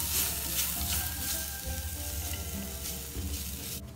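Finely chopped small capsicum sizzles and crackles steadily in a hot pan as it is stirred, with scraping clicks from the spoon over a continuous frying hiss and no voices.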